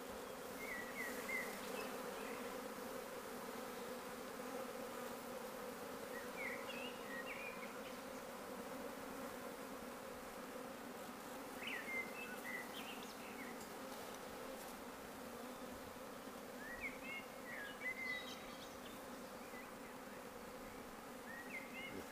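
A cast swarm of honeybees drones steadily around a branch and a basket, a dense, continuous buzz with individual bees flying past now and then; quiet and unbroken, with no voices.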